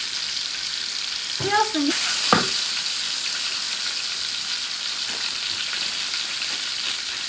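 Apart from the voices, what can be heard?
stir-frying food with seasonings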